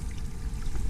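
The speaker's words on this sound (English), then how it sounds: "there's water flowing all through here." Rainwater runs through a desert creek in First Creek Canyon at Red Rock, a steady close pouring rush with no voices.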